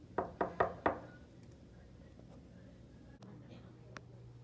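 Four quick knuckle knocks on a door in an even rhythm, close and crisp, followed by quiet room tone and a faint click.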